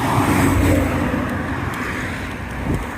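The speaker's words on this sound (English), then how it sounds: "and heavy traffic" Heavy road traffic near Viterbo, Italy, on a rainy day: a constant, fairly loud wash of passing car and engine noise with wind buffeting, and no clear individual vehicles standing out.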